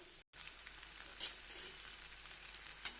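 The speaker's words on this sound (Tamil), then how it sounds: "இன்னும் கொஞ்சம் பொரியட்டும் பொறிஞ்ச பின்னாடி எடுத்துக்கலாம்" Evening snacks deep-fry in a pan of hot oil with a continuous close sizzling hiss, broken by a short dropout near the start and a few brighter crackles and pops.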